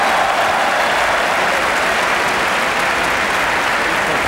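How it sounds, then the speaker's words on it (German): Studio audience at a live 1972 Bavarian lottery TV special applauding, a dense sustained wash of clapping that stays loud and even throughout, with no voices on top. "Vielen Dank für diesen Beifall"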